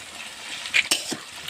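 Onions frying in a pan while being stirred, a steady sizzle broken by a few sharp scrapes and clinks of a utensil against the pan, close by.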